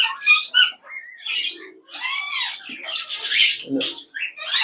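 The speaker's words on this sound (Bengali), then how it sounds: "এটা তো পাখি আছে বক্সে" Pet parrots or lovebirds in a nest box at a large parrot breeding farm give loud chirps, squawks and cooing calls in a close, continuous burst, with no talking.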